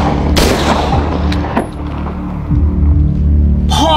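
Video game gunfire rings out in loud, sharp shots, with one heavy burst early and another at the end, over a constant low rumbling background.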